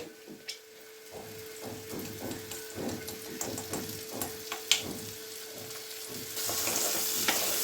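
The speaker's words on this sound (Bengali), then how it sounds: "আমি একটু ঘি দিয়ে দিচ্ছি।" Ghee sizzles softly in a pan while mushroom biryani is cooked, a faint, steady frying hiss with scattered light taps and stirs that grows louder near the end.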